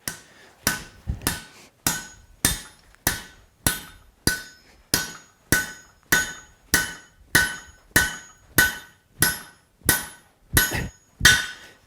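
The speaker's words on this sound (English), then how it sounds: "we're going to use our drift to open this up to 1/2 inch" A hammer strikes hot steel, driving a drift through it at the anvil: about seventeen sharp, ringing blows at a steady, roughly even pace, loud and close, with no talk.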